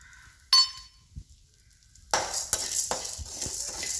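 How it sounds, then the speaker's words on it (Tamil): Cumin and other spices for sambar powder dry-roasting in a pan: a single metallic clink, then about two seconds of quiet, then scraping stirring with a soft rattle and crackle that carries on to the end, close by. "இதை வந்து ரொம்ப ஹை ஃப்ளேமில் வச்சு நீங்கள் வறுக்காதீங்க, எல்லாம் கறி போயிடும், ஜீரகம் டக்குன்னு ஃப்ரை ஆயிடும்."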